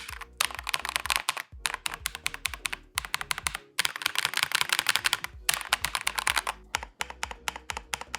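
Rapid typing on a KiiBOOM Phantom 81 V2 mechanical keyboard, crisp clacky keystrokes in quick bursts with brief pauses between runs, close and clear.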